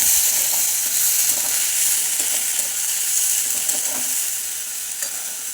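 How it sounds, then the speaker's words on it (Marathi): Beans and red chilli powder being stirred in a hot pan, a continuous close sizzle with scraping stir strokes over it, no voices. "शेंगा टाकल्यात आपण घेऊन छान असं मिक्स करून घ्यायचं"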